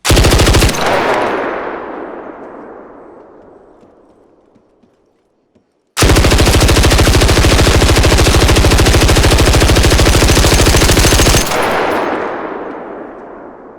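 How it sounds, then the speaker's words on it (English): A light machine gun in the video game Arc Raiders fires a short, loud burst that rings out and fades, then falls silent. A long, sustained stream of rapid shots follows, and its echoing tail trails off at the end. "So this is an LMG, which I've never used before either."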